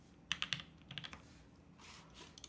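Typing on a custom mechanical keyboard fitted with the hardest Tadpole switches, a quiet close clatter of quick keystroke bursts with short pauses between them, no voices.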